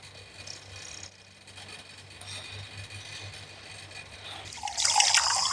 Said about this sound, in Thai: เดี๋ยวเราขอไปเอาน้ำออกก่อนนะ